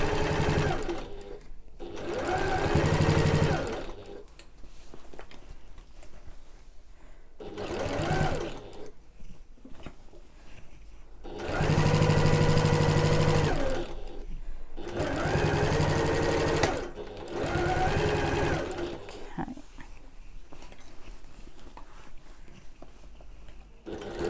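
Sewing machine stitching a backpack, running in several loud bursts of rapid motor-driven needle chatter separated by quiet pauses, close up with no talking.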